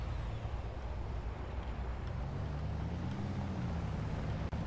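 Vehicle engine in the video game Red Faction, a steady low rumbling drone running continuously at moderate level with a slight rising pitch midway, no talk.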